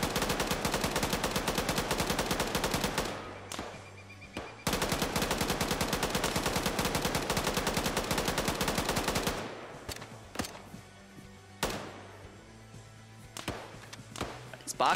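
Bursts of machine-gun fire in a military shooter game, dense rapid rounds loud and close for several seconds, then a pause and more scattered, sparser shots with a low engine-like drone underneath.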